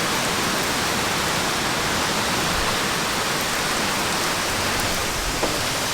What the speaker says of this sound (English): Rained out.